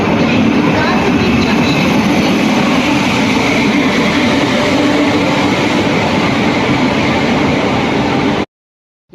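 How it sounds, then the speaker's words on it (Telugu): Passenger train bound for Pune, with a loud, dense, continuous rumble and rattle of the moving train heard from inside, steady until it cuts off abruptly near the end. "ఈ ట్రైన్లో నేను పూణేకి వెళ్తున్నానండి"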